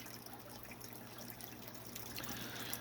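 A fish-room waterfall trickles softly and steadily beside large aquarium tanks, with quiet drips and splashes over a low hum that grows a little fuller toward the end.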